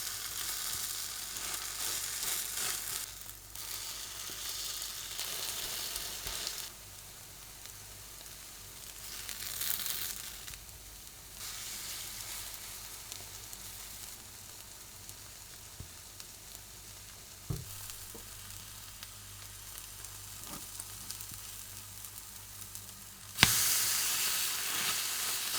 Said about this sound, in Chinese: 中火煎至两面金黄。